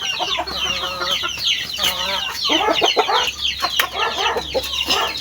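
Pet chickens and chicks in a large coop, waiting to be fed in the late afternoon, cluck busily in overlapping, close calls over a low steady hum.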